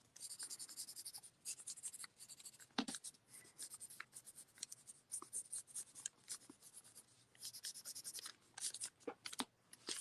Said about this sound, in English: just start rubbing the back with a pencil, transferring those lines